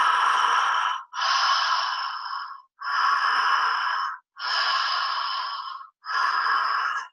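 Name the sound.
conscious connected open-mouthed breathing, continuous inhale and exhale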